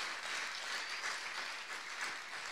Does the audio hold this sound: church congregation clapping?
yes